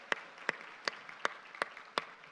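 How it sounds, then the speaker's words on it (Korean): A few slow, evenly spaced claps sound in a church gathering, about six distinct hand strikes, fairly close and quiet with little else around them. "다시 큰 우리 사랑과 축복의 박수합니다."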